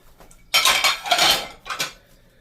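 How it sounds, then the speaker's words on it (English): Dishes, pots and cutlery being hand-washed in a kitchen sink: a sudden loud clatter of clinking utensils and dishware in two close bursts, then a shorter clink, with a quiet start and no talking. "I might as well just record the whole process of washing all the dishes."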